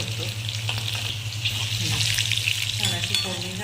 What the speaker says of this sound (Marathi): मिरची थोडी तळून द्यायची